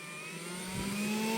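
A homemade battery-powered blower fan runs with a steady whine whose pitch climbs as the motor spins up, a smooth rising tone heard close and alone.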